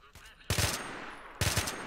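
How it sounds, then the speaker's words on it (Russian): Gunfire in the video game S.T.A.L.K.E.R.: Call of Chernobyl, two short bursts of rapid shots a second apart, each with a fading echo afterwards. "Он еще по кому-то стреляет там. Слушайте."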